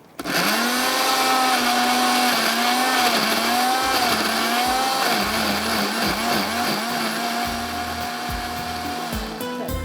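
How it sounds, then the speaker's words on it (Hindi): A blender grinding tomatoes and yogurt whirs loudly and steadily for about ten seconds, its motor pitch wavering slightly as the contents grind. "यहाँ पर टमाटर और दही को थोड़ा सा ब्लेंडर चला देती हूँ ताकि ये पिस जाए"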